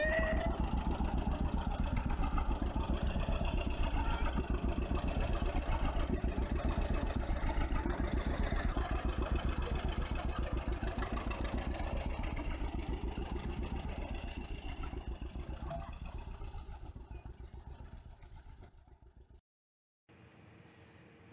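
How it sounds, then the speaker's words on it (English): A John Deere tractor engine runs with a steady throbbing chug on a farm, loud at first then slowly fading as the machine drives away, ending in near silence. "Farmer Dave getting on the John Deere."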